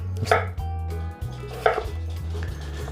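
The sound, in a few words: knife cutting potatoes into quarter slices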